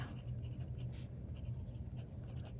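Nib of a Pelikan M800 fountain pen in brown and black, ground to an extra fine point, scratching steadily across paper in a close, quiet, continuous stroke pattern.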